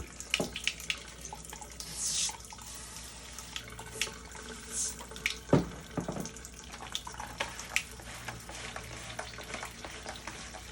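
Running water splashes over a dirty vinyl record held under a tap, a steady hiss broken by irregular spatters and sloshing bursts as the disc is turned and rinsed, close and fairly quiet.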